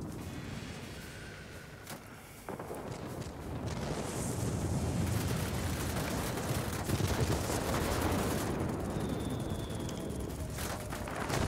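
Aircraft guns in World of Warplanes, an IL-2 attack plane strafing an anti-aircraft gun, sound as a dense, roaring burst of rapid fire that swells and holds for most of the stretch, heard alone.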